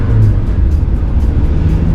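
Original engine of a 1999 Mazda Miata idling close by, a steady low, even hum with no popping or grinding.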